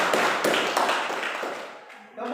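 A classroom of students claps briefly for a group's result, a quick ragged burst of hand claps that thins out and fades near the end.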